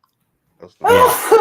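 One sharp, close sneeze bursts out after a short intake of breath, with a brief voice right after it.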